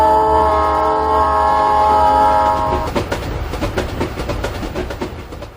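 A brightly lit express train thunders past a railway signal box: a sustained, loud horn-like tone gives way to a dense, rhythmic clickety-clack of wheels racing over the rails, with no voices.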